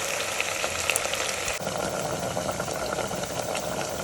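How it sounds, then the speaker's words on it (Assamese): Meat fries in a pan with a dense, close sizzle, then water is poured in and the crackle shifts to a softer, bubbling simmer for the rest. "এতিয়া এটা পানী দি অকণমান উতলাই ঢাকনখন মাৰি দিম"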